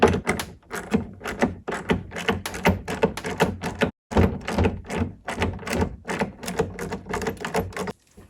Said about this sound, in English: continue loosening that bolt